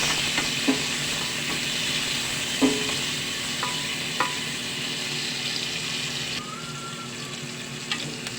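Cooked food with green chili peppers being stirred in a sizzling pan, a steady frying hiss broken by several sharp utensil scrapes and clinks across the pan, close and alone with no voices.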